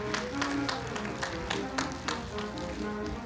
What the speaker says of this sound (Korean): 다시 한번 축하의 박수 부탁드립니다